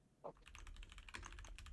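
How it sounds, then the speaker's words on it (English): Vigorous typing on a computer keyboard: a quick, dense run of close key clicks and clatter following one sharp initial tap, heard alone without voices. "Typing vigorously."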